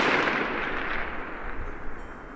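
A single rifle shot fired freehand from a kneeling position, with no sling support, sets off a loud report that decays into a long rolling echo.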